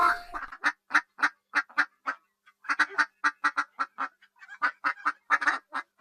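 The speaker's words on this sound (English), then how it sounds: "Wow, the hens are saying cluck, cluck." Hens cluck in a series of short, nasal calls repeating in quick irregular bursts, loud and close, with no other sound between them.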